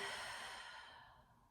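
A single deep, breathy exhale during a relaxed yoga hip-opening pose, close and clear, trailing off softly over about a second and a half with no talk.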